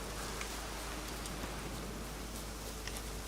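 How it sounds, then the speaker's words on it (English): Rain falls in a video game as a steady, even hiss with faint patter, continuous and moderately quiet, with no voices over it. "Yeah, of course it looks like rain. It is rain."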